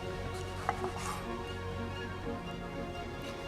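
A knife cutting a tomato on a board gives a few light, close taps and clicks, one sharper knock near the start, over a steady low background hum.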